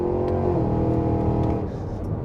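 A 2023 Cadillac Escalade V-Series engine roars loudly on a downshift, a dense steady revving growl that holds for about two seconds before easing slightly, with no talking.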